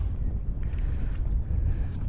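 Strong gusty wind buffets the microphone with a steady low roar, loud and continuous, at a feeder fishing competition, with faint water and boat sounds beneath.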